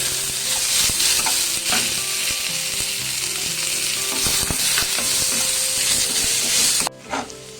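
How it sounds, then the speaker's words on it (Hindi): Chopped onions frying in a pan for chana masala, a loud, steady close-up sizzle with occasional stirring scrapes, cutting off abruptly near the end. "एबे हमें कटा पियाज पकाइबा।"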